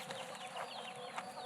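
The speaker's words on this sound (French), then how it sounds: "T'as vu les poules dans l'arbre?" Several chickens perched up in a tree cluck softly in short, repeated calls, fairly close and with no talking.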